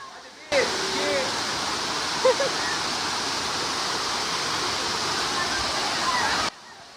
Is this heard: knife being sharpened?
no